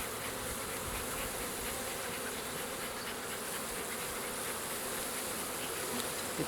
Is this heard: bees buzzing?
yes